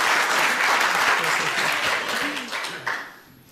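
A church congregation applauds in a full, steady round of clapping that thins out and fades toward the end.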